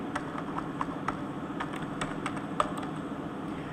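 Rapid typing of printf on a computer keyboard, steady clicking keystrokes with a few sharper taps, close and clear with no talking.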